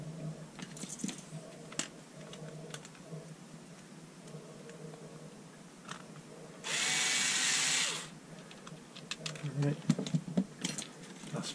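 A power driver drives screws back into a DeWalt DCF887 impact driver during an anvil replacement: one sustained, close whir lasting about a second, surrounded by quieter handling clicks and faint talk.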